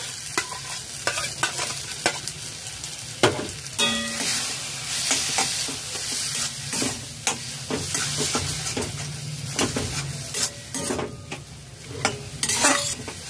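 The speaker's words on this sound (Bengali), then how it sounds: "বেগুন পোড়া মাখা দিয়ে 3 মিনিট নাড়াচাড়া করে নিয়েছি" Mashed roasted eggplant stirred with fried egg in a hot pan, a steady close sizzle under repeated scraping, clinking stirring strokes through the whole stretch, with no talk.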